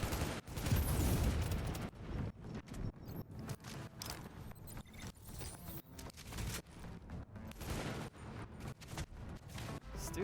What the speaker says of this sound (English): Stupid grenades, holy crap.